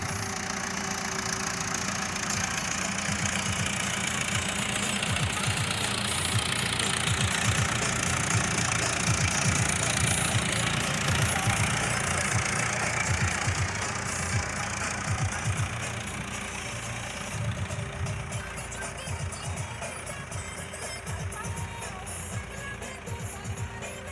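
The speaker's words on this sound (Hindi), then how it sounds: "आज ट्रैक्टर आ ही गया हमारा" A tractor engine runs continuously while digging earth, a steady mid-to-low rumble with a knocking texture that holds for over twenty seconds, fairly close and with no talk over it.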